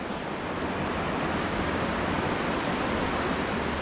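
Warm pond water pours down a small spillway into a cool urban creek, making a steady, dense rushing wash close by with no talk.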